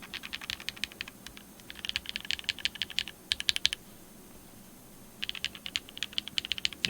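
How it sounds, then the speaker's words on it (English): Leaf65 mechanical keyboard with an aluminum plate and Matcha Latte switches being typed on, close and crisp: quick bursts of clacky keystrokes, a short pause near the middle, then typing resumes. "Okay, typing test."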